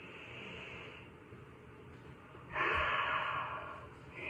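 A person takes a deep breath during an energy healing exercise. A faint airy hush runs steadily, then one louder, longer inhale swells close to the microphone before easing off.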